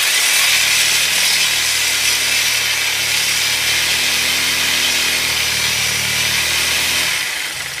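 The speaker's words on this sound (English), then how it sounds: "gonna sawzall his muffler off" A reciprocating saw buzzes loudly and continuously up close as it cuts through a Ford Focus exhaust pipe to remove the muffler, a harsh rasping metal-cutting roar that wavers slightly in pitch before winding down at the end.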